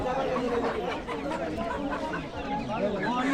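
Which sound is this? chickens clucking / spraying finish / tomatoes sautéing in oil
chickens clucking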